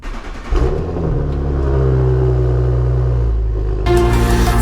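An Audi B9 S4 idles with a steady low engine rumble close by, then the revs rise briefly as the car pulls away, ending in a louder burst of noise.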